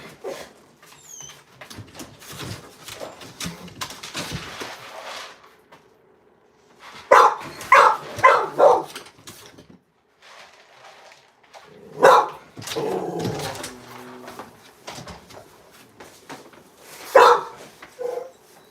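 Dogs bark in loud, sharp bursts close by while jumping against a door, with whines and scrabbling in between and quieter gaps separating the outbursts.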